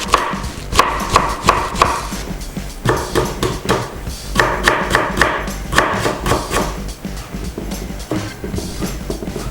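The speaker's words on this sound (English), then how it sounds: "Cut in julienne again." A kitchen knife cuts vegetables into julienne strips on a cutting board, giving quick bursts of crisp chopping taps in uneven runs with brief pauses between them, close and clear with no talk.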